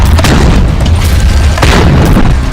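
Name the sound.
cheap rockets being fired from the ground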